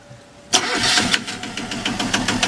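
The engine of a Hunter 27 sailboat cranks and catches after a quiet moment, then settles into a steady, close running rumble.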